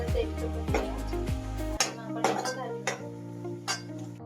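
A spoon stirring turmeric into pav bhaji masala in a pan, with repeated scraping and clinking of metal against the cookware at a quick, uneven pace, close and moderately loud.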